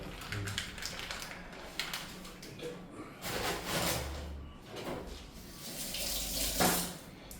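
Kitchen tap water running in uneven bursts as chicken is washed in a sink, splashing and gurgling up close, with soft handling knocks and a faint voice in the background.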